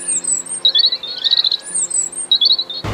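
A robin singing in bright, high warbling phrases and twittery trills, close and clear, repeated in short bursts with brief pauses and no talking.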